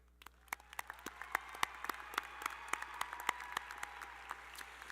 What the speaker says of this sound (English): ask you to applaud their accomplishments as honor graduates